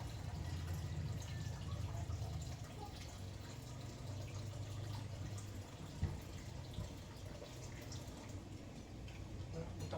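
Water pours into a cooking pot of pansit being prepared, a running, splashing fill with a few drips and ticks that stays steady throughout, fairly close.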